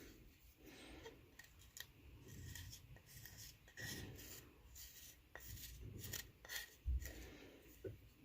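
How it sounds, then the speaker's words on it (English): Knife scraping across the top of a clay tile to remove clay from around a sprigged bird, giving soft, repeated rasping strokes close by with a few sharper scrapes, and no talking. "I'm just going to take my knife across the top now."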